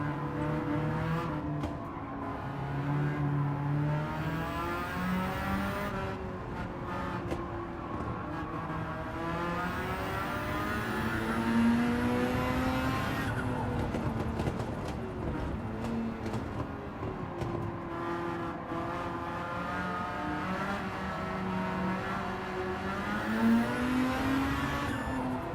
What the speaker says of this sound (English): My god, when that turbo kicks in at high RPM...